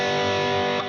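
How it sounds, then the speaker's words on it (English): A major third interval is held on an electric guitar through heavy distortion, one dense sustained dyad that rings loud for most of a second and then drops away, with no talking. "Major third would sound like this,"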